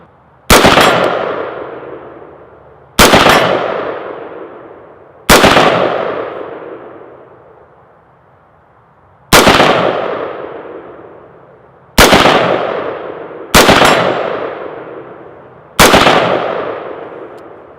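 Seven loud, close AR rifle shots are fired at targets outdoors in cold weather, each a sharp crack with a long ringing decay, spaced irregularly about two to three seconds apart.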